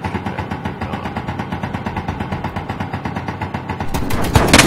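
Rapid automatic gunfire from a pirate base turret in Space Engineers, a steady stream of evenly spaced shots that grows louder and denser near the end.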